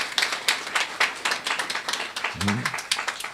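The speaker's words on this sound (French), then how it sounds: "Applaudissez donc pour les connaissances qu'on vous donne." A church congregation claps along during a sermon, with steady rhythmic handclaps at a close distance and a brief voice rising partway through.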